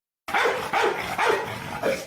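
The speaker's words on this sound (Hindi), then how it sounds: "तभी कुत्ता इसके पीछे पड़ जाता है।" A cartoon dog barks while chasing, giving four loud, close barks in quick succession after a brief silence.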